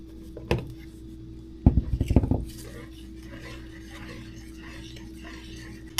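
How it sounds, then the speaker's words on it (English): Spoon clinking and scraping against a mixing bowl while black cocoa banana bread batter is combined, a short cluster of knocks and scrapes over a steady low kitchen hum. "So I'm going to add this in, combine it, mix it, so on and so forth until all of it's in here"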